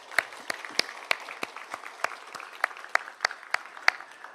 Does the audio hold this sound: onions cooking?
no